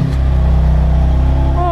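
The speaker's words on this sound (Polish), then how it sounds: "Cold start, słyszymy." A BMW M2 Competition with its stock exhaust idles on a cold start, giving a loud, steady, low engine drone with a fast pulsing throb, and a voice joins briefly at the end.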